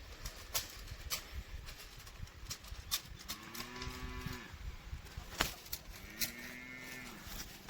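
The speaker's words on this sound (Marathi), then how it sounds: "ज्या जर्सी गाईचा बारीक ओरण्याचा आवाज आला तीही गाई आहे" A Jersey cow lets out two drawn-out, fairly faint moos a few seconds apart, heard from some distance over a quiet rural background with scattered bird calls and pigeon-like cooing.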